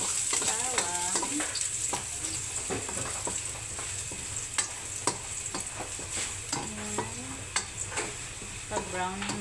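Garlic sautés in oil in a pan for vegetable kare-kare, a continuous crackling sizzle broken by frequent scraping strokes of a spatula and scattered clinks, close by and steady with no talking.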